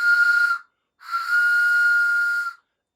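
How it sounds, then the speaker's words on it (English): A loud toy train whistle from a model train set blown twice, a short blast then a longer sustained one, steady and clear with a slight hiss, followed by silence. "the official train whistle. Let's test it out."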